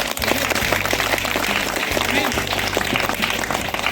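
Loud congregational clapping at a Christian healing prayer meeting, dense and steady across the whole stretch, with a low musical drone and voices mixed underneath.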